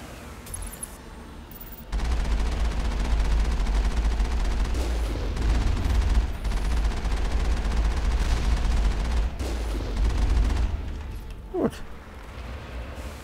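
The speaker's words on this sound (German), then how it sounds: "Ja, die schießen auch schon." Sustained gunfire in the video game Mass Effect: after a quiet opening, a dense stream of rapid shots and booms sets in over a deep rumble. It runs loudly to near the end, with a sharp whine late on.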